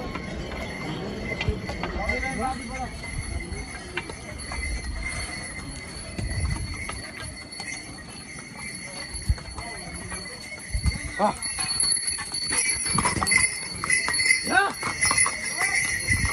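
Horses' hooves clip-clop along the Kedarnath pilgrimage trail in the Himalayas, a steady rhythm of hoofbeats near and mid-distance amid crowd bustle and people talking throughout.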